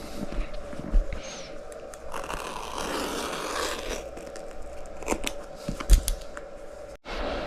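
Scissors snip away excess seat cover material under a Freego X2 electric dirt bike seat, a few soft crunchy cuts and scrapes at close range with low background hum, no talk.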